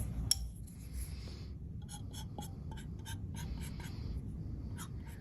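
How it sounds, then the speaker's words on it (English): A pen scratches on a jar lid in short, quick strokes and squeaks, faint and close, with a soft background hiss throughout. "I'm gonna write on the lid what my scent is"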